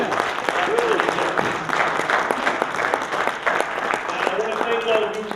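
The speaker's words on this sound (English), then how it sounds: "another round of applause, please." Audience applauding after a 2014 lecture at Essex County College for the Africana Institute, a dense steady wash of many hands clapping with faint voices and a brief whoop mixed in throughout.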